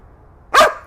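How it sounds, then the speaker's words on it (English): A dog barks during toy-based training, one sharp close bark after a brief quiet pause, followed by the start of a second. "So I show her the toy. She barks."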